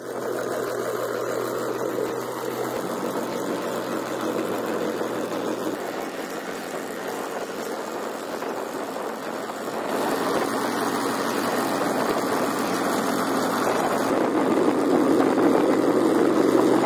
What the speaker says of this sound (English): This tractor-mounted salt peat cutter is renowned for high production.